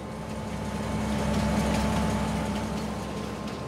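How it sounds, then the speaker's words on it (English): A custom blue-skinned train rolls past in Farming Simulator 22, a steady low engine rumble and drone holding level throughout with no voices. "In fact, we have our train coming by right now."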